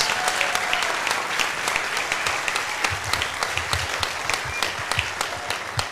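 A church conference audience gives sustained, dense applause, a steady patter of many hands clapping that lasts the whole stretch, with a faint voice beneath.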